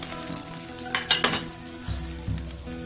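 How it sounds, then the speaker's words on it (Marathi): Onion, green chillies and garlic frying in hot oil in a pan, a close, steady sizzle with scraping stirs and a few metal clinks of a spoon against the pan. "तेल व्यवस्थित गरम झालं की त्यामध्ये आपण सुरुवातीला कांदा घालणार आहोत हिरव्या मिरच्या"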